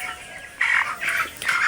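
Broiler chickens on a farm clucking in three clear, closely spaced bursts over a low, steady barn hum, fairly near and moderately loud.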